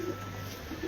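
Pigeon chicks coo softly in a couple of faint, low burbling calls over a quiet background hum, with no voices.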